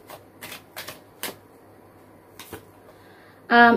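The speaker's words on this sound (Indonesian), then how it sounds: "Saya akan shuffle dulu," Tarot cards being shuffled in several quick riffling bursts separated by short pauses, close and crisp, ending in a sudden loud burst of another sound.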